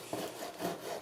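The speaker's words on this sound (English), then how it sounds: "with a sawing motion, separate the skin and the meat." A knife saws back and forth through catfish, separating skin from meat, in a steady rubbing scrape with several close, continuous strokes and no talk.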